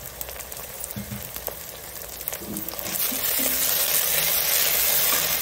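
Onions and fenugreek leaves frying in a pan while being stirred: scraping and clanking at first, then a loud, steady sizzle that swells and holds, close, with no talk.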